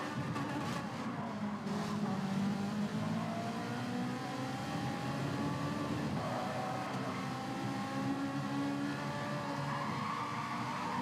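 A Jaguar race car in a racing video game revs and drones continuously, its engine pitch climbing and shifting through gears, close and loud without talk.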